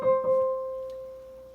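A single piano note, C, played with the second finger, rings out clearly and decays slowly, with a faint second touch just after the attack, alone and close.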